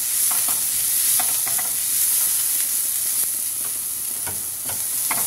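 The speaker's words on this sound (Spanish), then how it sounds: "Vamos a agregar una pizca y vamos a mezclar muy bien" Onion seasoned with a pinch of escabeche recado is stirred in a hot pan, a steady frying sizzle with scattered scraping spoon strokes throughout, close and fairly loud, no talking.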